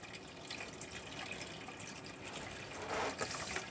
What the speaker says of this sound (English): As you can see, we've got water coming out